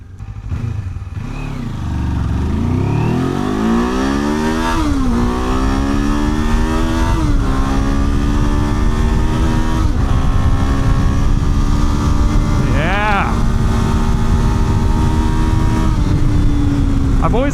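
A 2026 Kawasaki KLE500 motorcycle engine revs hard toward high RPM on a twisty road, its loud, rising whine climbing repeatedly through gear changes and holding a strained pitch near the top.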